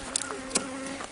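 Bees at a hive in the woods buzz in a continuous, close, steady drone, with a few sharper flicks as individual insects pass near.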